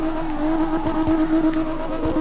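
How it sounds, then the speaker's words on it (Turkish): Powerful BMW E34 M5, tuned to 900 hp, drifting in the racing game CarX Drift Racing Online: a loud, steady engine drone with continuous tire squeal, holding through a sustained slide with no talk. "Çok stabil drift yapıyor."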